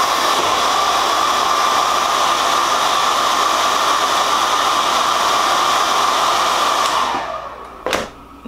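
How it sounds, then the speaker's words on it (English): A hair dryer blows steadily and loudly on a deep wavy 360 lace wig to set the lace, a continuous close roar that cuts off near the end, leaving a brief click and quiet. "I'm gonna blow dry it to make it tack."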